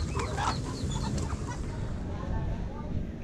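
Chickens on a small Philippine farm cluck repeatedly in short, overlapping calls, heard clearly over steady outdoor background noise.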